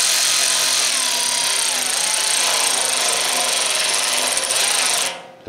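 A power tool drives license plate screws through the front bumper of a 2011-2018 Dodge Ram 1500. It whirs steadily and loudly for about five seconds with no voices, then cuts off.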